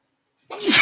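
A single close, loud sneeze bursts out after a moment of silence, rising sharply and cutting off abruptly.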